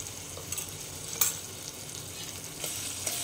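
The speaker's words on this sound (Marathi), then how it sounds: "हा ठेचा चांगला परतून घ्यायचा." Chili thecha sizzling in a small amount of oil in a pan, a steady soft frying hiss with a few faint clinks of a spoon stirring it.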